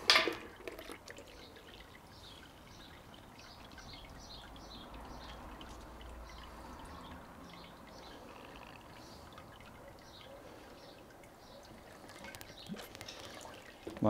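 Steady soft trickling and dripping of sparge water draining through brewing grain in a home brewing system, continuous and fairly quiet for the whole stretch, with a couple of louder clunks near the end.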